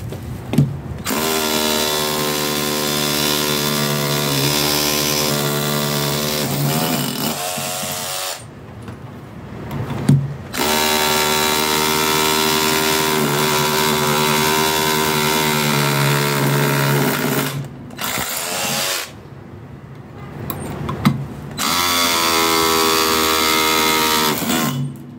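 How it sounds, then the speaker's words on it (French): A Parkside PABH20LI D4 20V cordless hammer drill, set to hammer mode, bores into a cinder block with loud, steady whining and hammering in long bursts, broken by two short pauses, with no talking. "je me suis mis en mode marteau perforateur. Et là je vais essayer d'attaquer."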